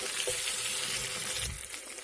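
Potatoes boiled with salt and turmeric frying lightly in white oil, giving a soft, steady sizzle with no talk.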